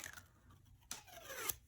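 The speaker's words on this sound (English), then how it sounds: "You just take the straight edge of your scissors and you hold it firmly with your thumb, and then you quickly pull it through" The straight edge of a pair of scissors drawn quickly along a paper quilling strip to curl it: a faint, close scraping swish with a sharp rasp in the middle and another at the end, with no talking.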